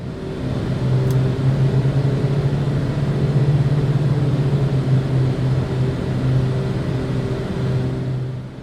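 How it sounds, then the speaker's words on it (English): Steady droning twin propeller engines of a Beechcraft Duke simulation hum with a low, pulsing beat from two slightly mismatched tones, set at slightly different RPMs, loud and continuous throughout. "the characteristic twin-engine beat frequency, which is produced by having slightly different RPMs set on the two engines"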